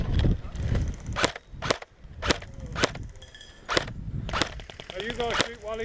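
Airsoft guns fire outdoors at a game field in a string of sharp, close snapping shots at irregular intervals, roughly eight cracks over a few seconds, with faint movement and background noise between them.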